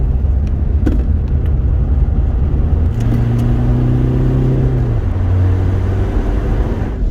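A Rover 25 diesel car accelerating hard, its engine note rising in steady pitch sweeps with a deep rumble, heard close from inside the car with no talking.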